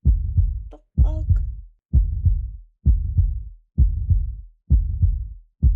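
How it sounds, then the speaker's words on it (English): Heartbeat sound effect in a video game, a regular deep lub-dub thumping about once per second, loud and close, repeating six times with no talk over it. "I heard like the heartbeat sound effect"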